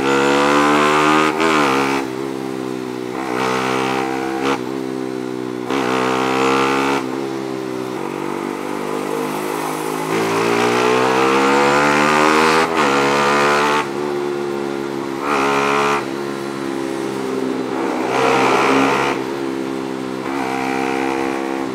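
A Yamaha Sniper 155 motorcycle fitted with upgraded racing engine parts and a racing exhaust pipe revs hard again and again, its loud, close engine note climbing and dropping in repeated sweeps with nobody talking.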